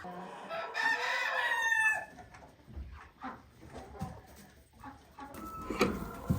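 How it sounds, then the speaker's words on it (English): Barred Rock chickens cluck and call near the microphone, with a rooster-like crow early on, then scattered clucks and rustling farmyard noise. "The Barred Rock flock is looking really beautiful as usual."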